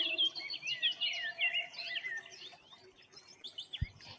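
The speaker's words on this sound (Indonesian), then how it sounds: "Ada suara burung pipit." Sparrow chirping outdoors, a rapid run of bright, high tweets that comes in bursts and eases off, fairly close, with a faint insect-like hiss behind it and no voices.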